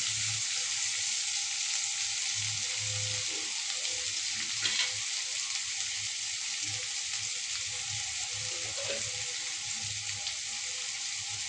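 Onion and garlic fry in hot oil with a steady, close hiss and crackle that lasts throughout, broken now and then by soft stirring scrapes in the pan.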